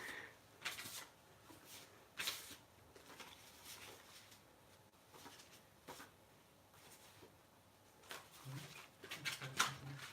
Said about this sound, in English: Sorry, I'm getting all my cards together.